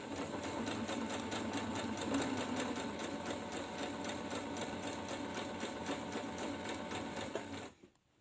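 A sewing machine runs a regular straight stitch with a half-inch seam allowance on a cloth face mask, whirring fast and steady for about seven seconds before stopping abruptly.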